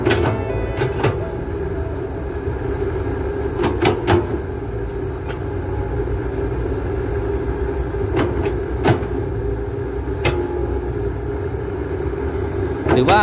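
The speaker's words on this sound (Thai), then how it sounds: "เสียงเครื่องเงียบมากและเรียงแรงนะครับคันนี" A Komatsu HB205-1 hybrid excavator's engine runs with a steady low rumble throughout, occasional metallic clicks and knocks over it, and someone talking nearby.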